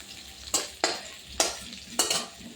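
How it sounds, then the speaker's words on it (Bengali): Potatoes fry in hot oil in a pan and are stirred. Four sharp scraping strokes fall roughly every half second over a soft, steady sizzle, with no talking. "এবার একটু নেড়ে চেড়ে একটু ভাজা ভাজা করে নামিয়ে নেব"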